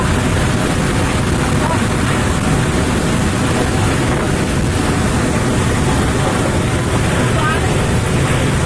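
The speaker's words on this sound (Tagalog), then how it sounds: "sobrang lakas ng hangin, diba?" Typhoon wind roars continuously against the microphone, a dense, loud rushing noise that never lets up, with water and surf mixed beneath.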